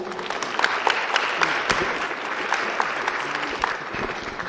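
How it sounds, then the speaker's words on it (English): Warm applause from the audience at a Toastmasters evening event, a fairly dense round of clapping with a few sharper individual claps standing out, continuous throughout without speech. "Please help me give a warm round of applause to our dynamic Toastmaster, Anthony Sani."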